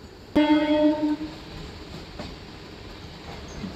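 A Bhimavaram–Vijayawada MEMU train on its tracks gives a sharp onset followed by a strong tonal hum for about a second, then settles into a quieter steady rumble with a faint click.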